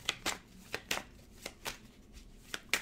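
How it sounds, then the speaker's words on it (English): Tarot cards are shuffled by hand in quick, crisp riffling bursts, several close snaps in a row, near and fairly quiet with no talking. "One more shuffle."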